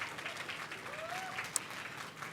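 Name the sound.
audience applause at launch event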